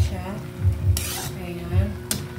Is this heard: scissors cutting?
no